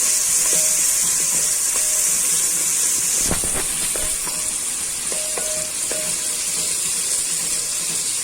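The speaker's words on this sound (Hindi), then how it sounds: "दरमियानी आग पे प्याज भून लेंगे" Onions frying in a pan over medium heat give a steady, close sizzle and hiss that runs throughout, broken by a few clinks and scrapes of stirring.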